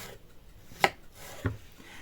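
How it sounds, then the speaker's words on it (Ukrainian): A knife slices apples for a cinnamon apple pie, giving two separate crisp cuts a little over half a second apart, close and clear against a quiet kitchen. "Нарізаю ось так всі яблучка."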